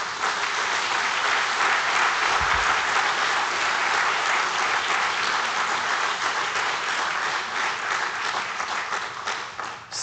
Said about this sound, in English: They surely deserve a resounding round of applause.